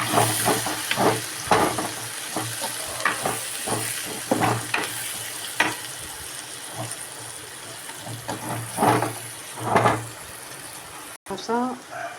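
Chicken masala, chilli powder and cumin powder being stirred in a frying pan, a spoon scraping in repeated strokes over a steady sizzle and hiss, close by, with a voice speaking intermittently.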